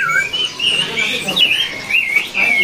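Imported caged songbirds at a bird market sing with bright, high chirps and whistled phrases that rise and fall continuously, fairly close, while people talk in the background.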